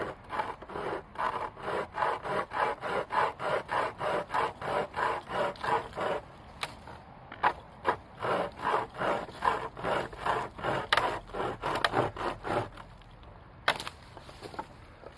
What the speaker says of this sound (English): Let's see how this chainsaw works, eh?